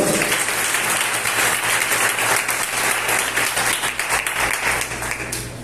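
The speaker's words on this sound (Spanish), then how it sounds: "Dile un fuerte aplauso al Señor." A congregation at a church service breaks into loud, sustained applause, dense crowd clapping that holds steady for several seconds and eases slightly near the end.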